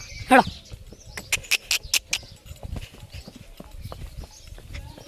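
A mare is led at a walk, her hooves giving a run of sharp, fairly close clip-clops, a quick regular burst early on and then softer, scattered steps.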